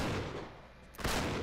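Gunfire from the video game Uncharted 3, a muffled burst of shots followed by a sharper blast about a second in, fairly faint under a steady background din.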